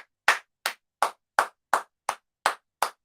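A single person clapping, eight crisp, evenly spaced claps at a steady beat, close and distinct with silence in between and no other voices.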